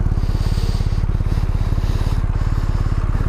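A BMW R1250R motorcycle idles close by, its boxer engine thumping in a steady, rapid low pulse with a faint mechanical clatter on top, loud and constant with no voices.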